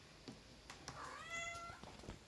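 A domestic cat meows for attention in a single drawn-out, rising-and-falling cry, fairly close in a quiet indoor room, with faint soft knocks before it.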